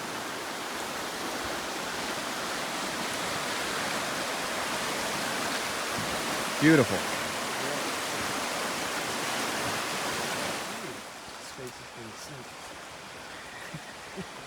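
Creek water flows steadily along a hiking trail at Cripple Creek, a broad rushing wash heard close and continuous, with someone briefly speaking over it partway through.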